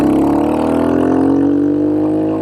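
Royal Enfield Hunter 350 custom motorcycle with an aftermarket pipe revs hard, a loud, close single-cylinder engine note climbing steadily in pitch and holding strong throughout, with no talking.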